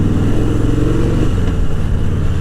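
A 1700cc Harley-Davidson Fat Boy motorcycle engine running on the road, a loud, close, low rumbling drone that shifts pitch slightly partway through, with no speech.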